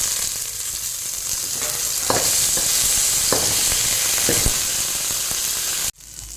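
Washed curry leaves frying in hot oil with dry byadagi chillies for vangibath, a loud continuous sizzle with a few stirring knocks, cutting off abruptly near the end.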